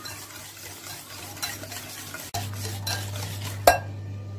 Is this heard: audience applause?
no